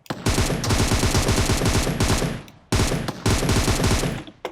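Sustained automatic gunfire from the battle royale game PUBG Mobile, loud, rapid bursts running nearly continuously with a brief pause midway before firing resumes.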